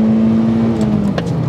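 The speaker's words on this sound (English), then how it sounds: "I'm basically just winding it out until I think I'm about to hit rev limiter" Fiat Multipla engine wound out hard while driving, a loud close droning rev with a steady high whine that climbs and wavers briefly, no voices.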